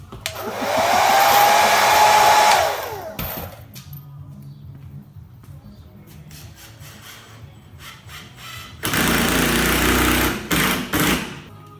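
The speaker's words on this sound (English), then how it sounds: "That's why they invented blowers." Loud whine of a blower that surges in for about three seconds and cuts off. Quieter knocking and rustling follow, then a second loud, gusty burst near the end.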